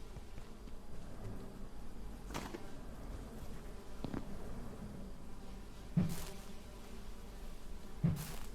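Bees buzzing around a beehive in the survival game Abiotic Factor: a steady, moderately quiet drone that holds for the whole stretch, broken by a couple of short, sharp clicks near the end.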